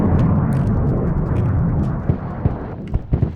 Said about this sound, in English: Our poor F-22 is going down here.